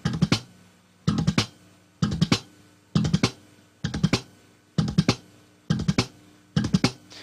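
Rapid slap bass bursts repeat in a steady rhythm, each a quick three-hit triplet of thumb, muted click and pluck, played close and alone.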